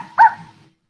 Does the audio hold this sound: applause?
no